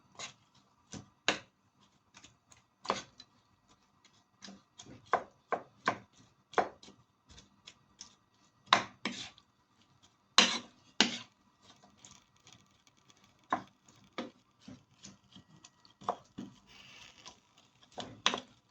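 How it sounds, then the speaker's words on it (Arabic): A utensil stirs shrimp tray ingredients, including mashed garlic and red pepper, in a pan, making irregular sharp clicks and scrapes against the metal, close and fairly quiet, with no talking. "هفضل أقلب في المحتويات دي"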